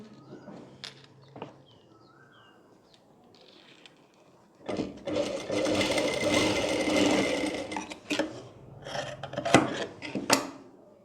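A sewing machine stitches a blouse in a sustained run of several seconds midway, followed by shorter bursts and clicks of handling, with quiet stretches before and faint bird chirps in the background.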